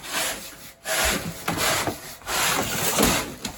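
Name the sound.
brushing a PVC pipe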